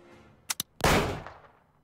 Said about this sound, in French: J'avais prévu votre réaction et chargé ce revolver à blanc